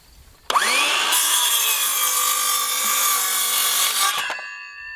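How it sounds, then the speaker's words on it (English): A circular saw spins up and cuts through a 2x4 wood board, a loud steady close whine and rasp of blade in timber lasting about four seconds before winding down, with no talk. "with your circular saw, you can use this to line up your cut"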